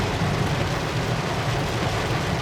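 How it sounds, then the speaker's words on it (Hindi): Heavy rain pours steadily in a dense, loud, unbroken hiss with no talk. "बारिश बहुत गजब की हो रही है आज।"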